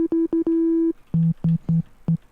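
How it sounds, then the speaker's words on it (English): A sine wave from a software synthesizer plays as a string of short, clean pure-tone notes, first at a higher pitch and then at a lower one, with clicky attacks and no talk. "So let's load up a sine wave."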